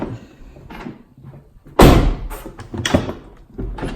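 A Tesla car door thumps shut with a solid slam while the battery pack is disconnected, followed by a few lighter clunks and rustling movement nearby.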